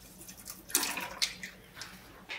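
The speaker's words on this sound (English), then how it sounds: "And then just agitate the water a little bit. This is just to mix up the soap." Water being stirred by hand to mix in Dawn dish soap and a splash of isopropyl alcohol for a telescope mirror wash, giving soft sloshing and splashing bursts close by, with no talking.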